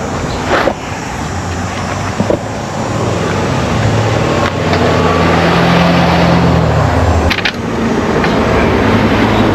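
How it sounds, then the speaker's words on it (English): Roadside traffic rushes past close by, a loud continuous roar of passing vehicles with a heavy engine drone swelling and fading in the middle and sharp thumps scattered throughout. "it'll be a little noisy with traffic here"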